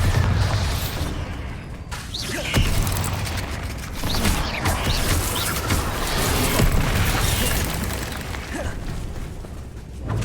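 Spell explosions from the Bombarda charm in Hogwarts Legacy on PS5 rumble in dense, noisy combat, with repeated booms and bursts layered over clattering effects and no clear pauses.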